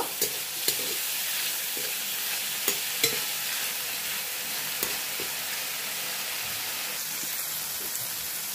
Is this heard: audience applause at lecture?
no